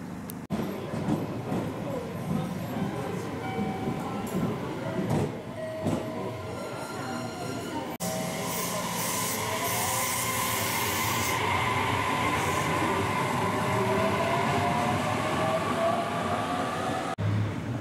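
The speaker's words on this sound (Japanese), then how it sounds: "ここから鹿児島本線の電車に乗り換えて瀬高駅に向かいます。" An electric train on Japan's Kagoshima Main Line runs along the rails with a steady rumble and rising whine, wheels clacking softly, heard from inside the carriage.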